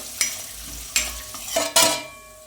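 Potatoes for poha cooking in a pan over a low flame, a few distinct spatula scrapes and knocks against the pan over a quiet sizzle.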